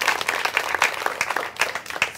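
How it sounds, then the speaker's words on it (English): An audience at a pageant cultural show gives a round of applause for a storyteller, a lively burst of uneven clapping that stays loud and close for about two seconds. "A round of applause again for Portia."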